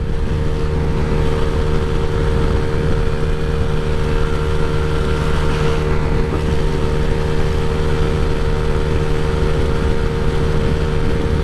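A Honda Click scooter fitted with an upgraded throttle body and fuel regulator revs with the throttle held wide open, a steady, loud, droning engine note that holds without letup, close up.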